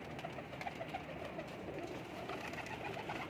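Indian Teddy pigeons coo softly in a loft, a few low repeated burbling calls over a continuous hum of background noise, with no talking.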